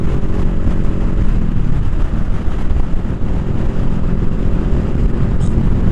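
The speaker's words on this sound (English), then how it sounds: "Or you can ride a Rebel 500 like I am, and it just doesn't do anything. It just drives down the road." Loud steady rush of wind and engine rumble while riding a 2021 Honda Rebel 500 S motorcycle down the road, a constant low drone with no distinct revs or shifts.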